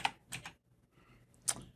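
A few separate computer keyboard keystrokes, quiet and close, spaced irregularly with gaps of near silence between them.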